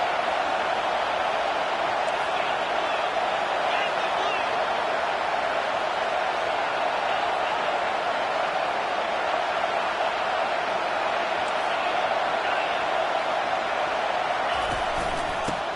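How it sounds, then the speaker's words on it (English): Dense, steady stadium crowd roar at a college football game between Florida State and Texas A&M, a continuous wash of massed voices rising in support of the home defense, loud and unbroken throughout. "This crowd rising up, sensing that its defense needs some help."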